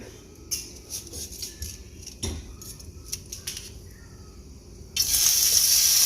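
Raw shrimp drops into a hot pan of teriyaki sauce and bursts into a loud, steady sizzle, after a few light clinks and scrapes of utensils against cookware.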